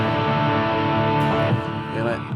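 Electric guitar with light, edge-of-breakup overdrive playing sustained chords and notes, steady and fairly loud, with no voices.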